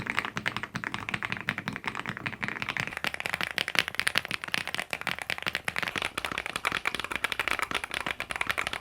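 Rapid mechanical keyboard typing, a dense stream of close clicky keystrokes with steady rhythm throughout, no voices.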